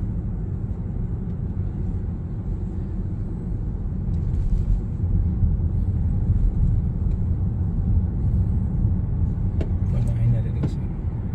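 Car cruising on a toll road in Bursa, Turkey, a steady low road and engine rumble from inside the cabin, with people talking quietly over it.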